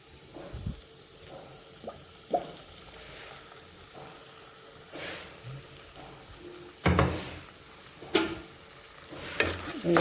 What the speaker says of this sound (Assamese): এয়া দেখিছে টমেটো চচ দিলোঁ। অকণমান লৰাই লৈছোঁ।